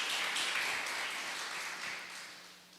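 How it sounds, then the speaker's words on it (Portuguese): A church congregation applauds after a sermon line, a broad, dense wash of clapping that holds steady and then slowly fades over a few seconds. "Você pode aplaudir Jesus por isso."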